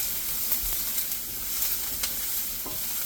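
Shredded pulled pork sizzles and crackles in hot oil in a pan, a steady close frying hiss with brief stirring scrapes, no voices.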